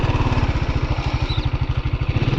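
A TVS Apache RTR 310 motorcycle set to urban ride mode idles close by with a rapid, even thumping beat and a steady mechanical rumble throughout, with no talking.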